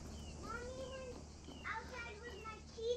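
A cat meows repeatedly in the tactical shooter game Ready or Not, several rising and falling calls over low background noise, with game voices talking around them.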